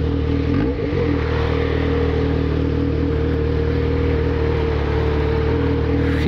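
Yamaha XJ motorcycle idling loud and close with a deep, steady exhaust rumble and one brief throttle blip near the start, in a city centre street.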